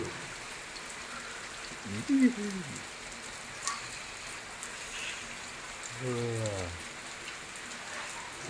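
Heavy rain falls steadily on surfaces around a flooded house in Nellore during a downpour, a constant dense hiss near the listener, with brief faint voices or sounds breaking through now and then.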